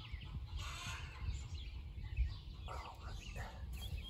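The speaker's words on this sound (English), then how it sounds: "I've got chickens laying eggs in the background." Laying hens cluck and murmur softly at a distance over a low background rumble, with faint voice-like sounds mixed in.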